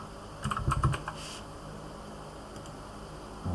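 Quick burst of keystrokes on a computer keyboard while entering a product name in a PHP tutorial setup, a short cluster of clicks followed by near silence and one more tap at the end.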